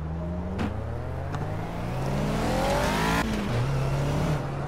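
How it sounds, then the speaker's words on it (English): Caterham Seven Classic racing at Oulton Park in Project Cars, its engine revving up through the gears with rising and falling pitch sweeps, loud and close, with a brief tire squeal. "And I'm racing at Oulton Park in a Caterham 7 Classic."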